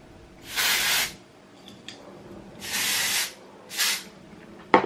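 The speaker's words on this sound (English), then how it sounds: "We're just gonna spray this. You don't need all that much." A hair shine spray with oil gives three bursts from a pump, two longer and one short, each a crisp close hiss with quiet pauses between and no voices.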